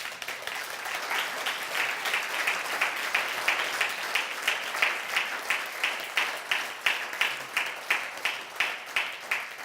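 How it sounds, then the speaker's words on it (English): A large audience at a DXN European leadership camp applauds two business founders, a broad, continuous roar of clapping that settles into a rhythmic, pulsing beat toward the end, with no talk over it. "A round of applause to both of them."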